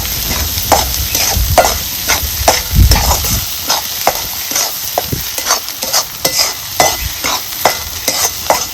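Masala for mutton curry frying in a pan with a loud, close sizzle under repeated vigorous stirring strokes, the spoon scraping and clattering in an uneven rhythm.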